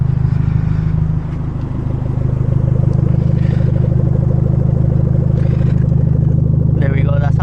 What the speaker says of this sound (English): Let's go hear the sound of the exhaust.